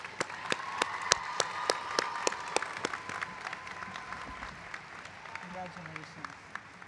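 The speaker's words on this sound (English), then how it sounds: "let's give her another round of applause" Audience applause at the 2023 WesternU College of Veterinary Medicine commencement, with sharp individual claps over a softer crowd background, tapering toward the end while a voice speaks near the close.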